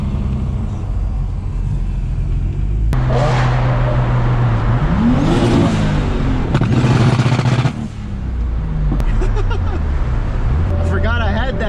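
A 515 whp turbo M52 BMW E30 accelerates hard, building a loud, rising roar that swells through the middle and then drops away, heard from inside the car while people talk over it.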